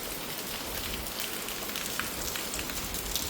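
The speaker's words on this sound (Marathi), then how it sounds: "आता पण खतरनाक पाऊस पडत आहे, जोरदार पाऊस चालू आहे." Steady, dense heavy rain pouring down at a mountain-base resort with a full swimming pool, a constant broadband hiss with scattered close drops spattering on surfaces.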